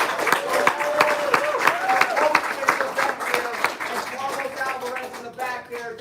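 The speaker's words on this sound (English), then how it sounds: "Can you get a round of applause?" An audience at an Amazon sellers' networking event gives a sustained round of applause, with many hands clapping steadily for several seconds under a prominent voice and tonal sounds.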